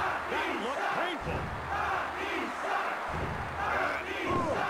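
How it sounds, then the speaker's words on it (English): Capacity arena crowd in the PS1 wrestling game WWF War Zone roars and chants continuously, a loud, steady wall of cheering with shouted bursts rising and falling throughout. "Listen to this capacity crowd. I can hardly hear myself talk."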